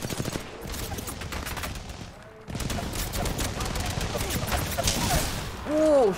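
Gunfire in the Apex Legends video game comes as rapid automatic bursts and sharp shots over a dense, busy background of game effects, with a character's voice speaking over the action.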